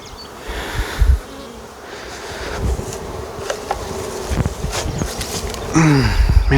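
A colony of honeybees buzzes loudly and continuously while a nuc is moved into a hive, the drone rising and swelling near the end, with scattered handling clunks and knocks.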